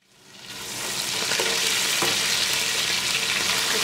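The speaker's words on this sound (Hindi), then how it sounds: "साथ ही ये लहसुन डाल देंगे, गोश्त के प्याज के साथ थोड़ा भुने" Mutton pieces frying in hot oil with onion and garlic, a loud, steady sizzle that swells in over the first second and then holds continuously with faint stirring clinks.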